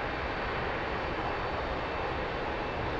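A Dassault M-2000C jet in the DCS World flight sim idles with a steady, broad whooshing roar, even and unbroken, heard alone at moderate level.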